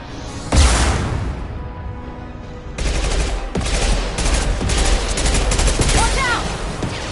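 Gunfire from the video game Mass Effect 2: a loud burst opens the scene, then dense, sustained volleys of shots and impacts run continuously with a few sharper cracks, close and heavy.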